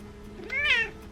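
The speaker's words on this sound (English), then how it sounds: "he starts meowing" A single cat meows once, close by and fairly clear, a short rising and falling cry of about half a second over a quiet indoor hum.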